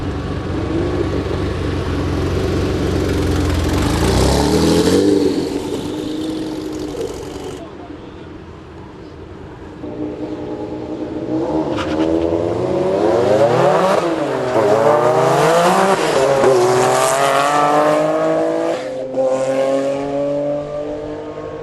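A Noble M400 sports car accelerates hard on a track, its engine rising loudly through the gears with sharp revving climbs and shift dips, someone speaking over parts of it.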